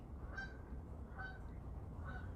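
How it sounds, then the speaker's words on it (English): Geese honk faintly overhead, three distant calls spaced about a second apart over a low rumbling background. "Now the geese are flying over."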